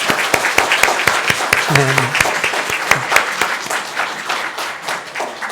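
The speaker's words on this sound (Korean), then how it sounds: "우리 박수로 환영하겠습니다" A church congregation claps together to welcome visiting elders from a prayer house association at a Sunday service, a steady run of sharp, fairly close claps, with a brief spoken word partway through.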